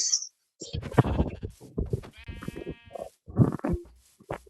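Cows in the Minecraft video game give a few short, low mooing calls amid busy game sounds, closest around the middle of the stretch.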